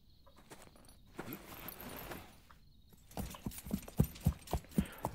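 Horse hooves clip-clop in a Wild West Online game, starting soft and then sounding as a steady run of loud, close, evenly spaced beats in the second half.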